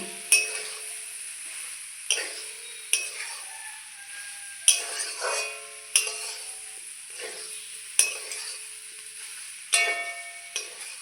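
A spoon scrapes and clinks in a pan as fried potato, soybean and paneer are stirred into a spiced masala with four-seed paste. The strokes come in regular, sharp bursts every second or so over a faint sizzle.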